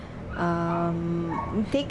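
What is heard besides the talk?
dog barking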